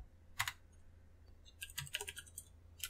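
Quick keystrokes on a computer keyboard while writing a Java import statement: a lone tap early, a pause, then a dense run of close, light clicks over a low steady room hum.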